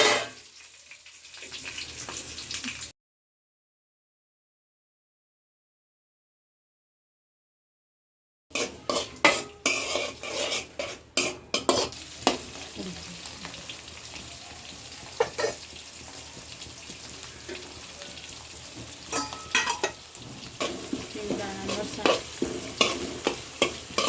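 Chillies and other spices fry in oil with a steady sizzle while a utensil stirs and clinks against the pan in quick bursts; a stretch of dead silence interrupts near the start.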